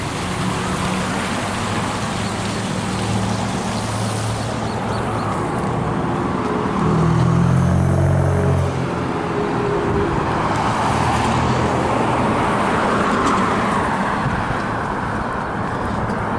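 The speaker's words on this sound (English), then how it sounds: "there's a lot of traffic that comes through here." Steady road traffic on a busy main road through a small Florida town, Alternate 90 in Milton, with cars passing continuously at moderate distance and one louder vehicle swelling past midway.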